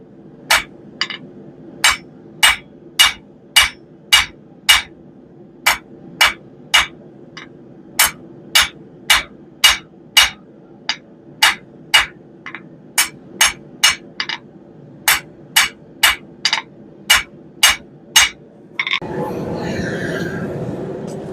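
Steel being forged and tapered with a hammer on an anvil: about thirty sharp, ringing blows in a steady rhythm, loud and close, over a low hum, ending in a brief burst of broadband noise.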